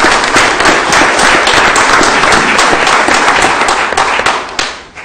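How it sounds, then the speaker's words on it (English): A council meeting audience gives a loud, sustained round of applause, dense overlapping claps filling the room for several seconds before tapering off at the end. "Give him a round of applause,"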